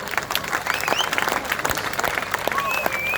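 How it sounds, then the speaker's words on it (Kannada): Audience applause at a live fan event for Hamsalekha, a dense, continuous crowd clapping with cheering mixed in, steady throughout. "ನಿನಗೆ ಎಲ್ಲ ಚಪ್ಪಾಳೆ ಸಲ್ಲಬೇಕು,"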